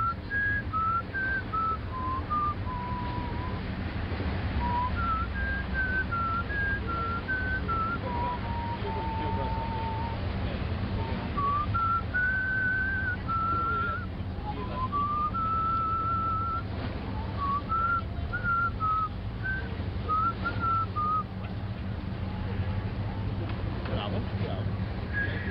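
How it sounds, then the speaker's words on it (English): Two people taking turns whistling the theme from The Godfather, a clear melodic whistle in repeated phrases over a low, steady background hum. "are alternately whistling the theme from The Godfather"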